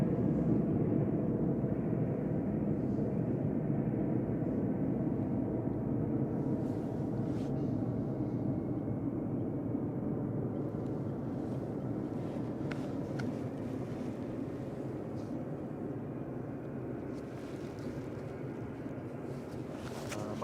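A Ryanair passenger jet at Manchester Airport produces a steady, low, rumbling roar that slowly fades, with wind buffeting the microphone and faint clicks above it.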